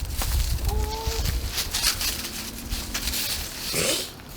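Chickens cluck softly at close range amid light rustling and pattering, with a few short calls scattered through.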